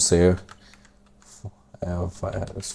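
A computer keyboard clacks in light, scattered keystrokes as a file name is typed, with someone talking over and around the typing.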